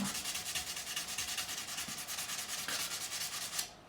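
Hand sanding over scratches in the finish of a 1972 Gibson Les Paul Custom Black Beauty guitar, a steady rhythmic rubbing with quick back-and-forth strokes, close and fairly quiet, with no talking.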